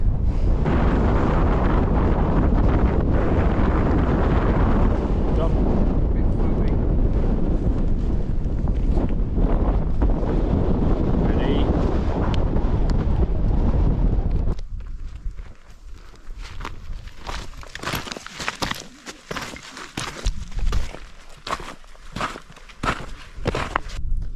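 Strong wind on a Lake District fell near Crag Hill roars and buffets the microphone, loud and continuous, easing into gustier bursts with rustling toward the end; no one speaks.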